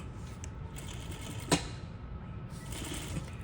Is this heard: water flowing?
no